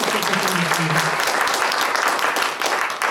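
A crowd applauding a speaker at a local political party gathering, a loud, dense burst of clapping lasting a few seconds, with a voice heard briefly over it.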